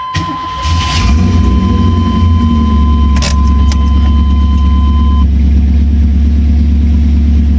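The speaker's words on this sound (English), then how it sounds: "That is factory dual exhaust you're hearing." A 1992 Pontiac Firebird Formula with factory dual exhaust starts up close by: a brief cranking, then the engine catches and settles into a loud, steady, deep idle rumble.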